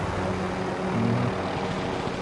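Helicopter in a PS4 video game: a continuous whirring engine drone holding steady for a couple of seconds, with no talk over it.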